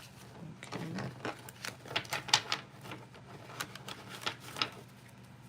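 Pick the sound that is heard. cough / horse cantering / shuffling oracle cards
shuffling oracle cards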